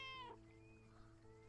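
A cat meows in the video game Lake, a short, clear call at the start that fades over a steady low hum of game music and ambience.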